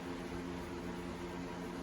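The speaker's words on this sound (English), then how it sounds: "Sorry about the fan." A heater fan runs in a house with a constant low whirring hum under a wash of airy noise, faint, even and uninterrupted.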